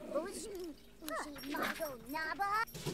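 A puppy in The Sims 4 whimpers and yips in a string of rising and falling whines with short barks, close and fairly quiet, over a soft game background.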